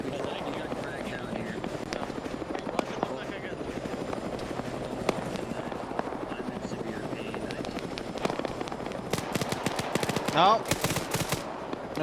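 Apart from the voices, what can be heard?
gunfire in the video game Arma 3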